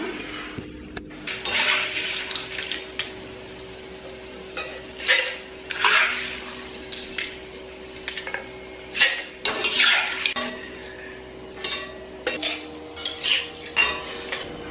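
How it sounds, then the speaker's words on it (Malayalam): Fried jackfruit chips are scooped from a pan of hot oil, with repeated metallic clanks and scrapes of a slotted spoon against the pan over a faint background hiss. "നമുക്ക് തീ നന്നായിട്ട് കുറച്ച് വെച്ചതിന് ശേഷം നമുക്ക് കോരി മാറ്റാം"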